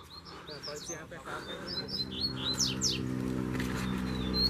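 Female coleiro (double-collared seedeater) calling outdoors with short, high chirps scattered over a steady low hum. The calls come from fairly close, and they fade later as the hum grows.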